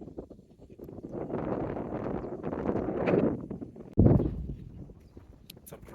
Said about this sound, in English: you can hear the breeze